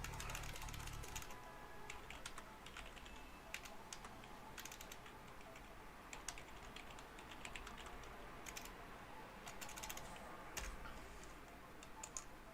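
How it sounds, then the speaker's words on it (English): Someone types a message on a computer keyboard: a quiet, steady stream of irregular key clicks, fairly close and heard alone without talking. "I'm typing out here a message"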